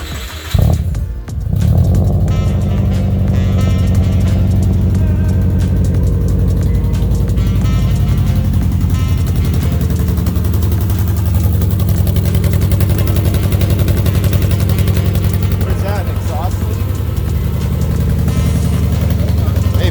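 A Subaru 2.5RS engine with a straight-pipe exhaust roars to life after a brief start, then rumbles and revs continuously with a raw, throaty growl. Voices may be faintly present underneath.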